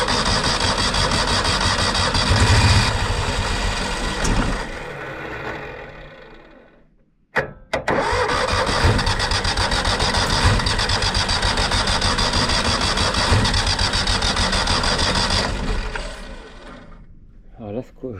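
Citroën 2CV engine running on a spare battery: a steady close engine drone cuts out, then restarts with a sharp catch and runs again at a steady idle before dropping away at the end.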